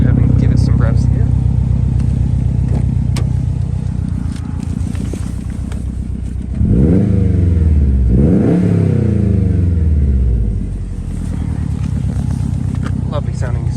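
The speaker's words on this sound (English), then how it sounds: "We'll go ahead and give it some revs here." A 2011 Subaru Impreza WRX STI sedan fitted with a Cobb intake revs hard twice, the engine note sweeping up and falling back over a steady idle rumble, close and loud.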